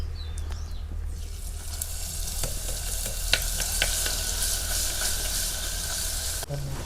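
Garlic frying in hot oil for lasan tikhari gives a loud, dense, continuous sizzle with scattered crackles and pops, close by, with a short break near the end and no talking.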